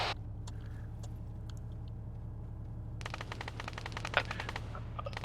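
Automatic gunfire crackles in ARMA 3 during mechanised infantry training, a dense run of rapid shots starting partway through over a steady low engine drone, loud and close with a sharper burst near the end.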